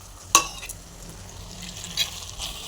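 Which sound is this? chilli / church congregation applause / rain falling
chilli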